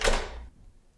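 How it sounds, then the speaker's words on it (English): A door being locked, heard as one close, sharp mechanical clunk of the lock that dies away within half a second into quiet. "Doors locked."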